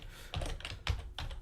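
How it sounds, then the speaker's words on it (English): Computer keyboard being typed on, a few soft, close keystrokes in quick uneven succession, quiet and without any talking. "let's just type the word value"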